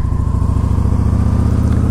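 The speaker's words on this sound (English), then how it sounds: "I can't think of a lighter feeling bike that has a bigger engine than this that's set up like a sidecar" A large-engined, light-feeling motorcycle set up with a sidecar idles loudly nearby, its engine pulsing in a fast, even low throb that holds steady throughout.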